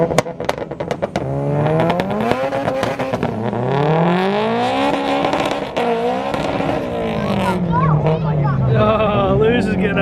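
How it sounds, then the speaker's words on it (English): Race car at Crail Raceway, a no-prep Honda Civic D16 scene, roaring through a burnout with a loud sustained engine note and rising revs, tire noise mixed in, with people talking over it. "Lewis is getting a bigger burnout."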